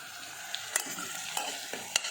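Onions fry in a pan for vegetable pulao, a soft continuous sizzle with several brief clicks of a spoon against the pan, quiet and close, with no voices.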